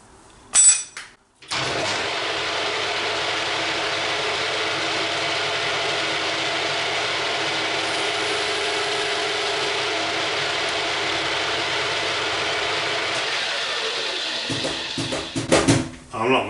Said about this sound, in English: I'm just going to put a chamfer on this front edge now, on this front corner.